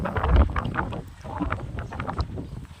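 Gusty wind buffets the microphone in uneven rushes, loud and close, with no clear voices.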